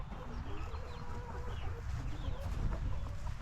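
Several backyard hens cluck softly and continuously nearby, low murmuring calls overlapping over a faint outdoor background.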